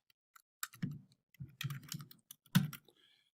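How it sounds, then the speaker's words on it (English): Close, crisp keystrokes on a computer keyboard come in a short irregular burst of clicks with brief pauses, quiet in an otherwise silent room. "So I'll type in second test."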